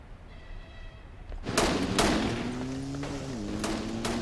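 Gunfire during a favela shootout in Brazil: after a quiet start, a series of sharp, loud reports crack out in quick succession, echoing, with a droning tone running beneath them.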